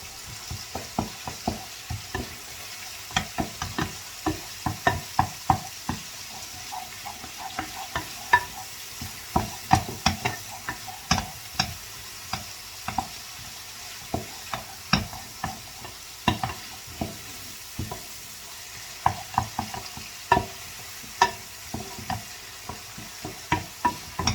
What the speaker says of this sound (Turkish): iyice güzel bir şekilde sotelemiz yapacağız.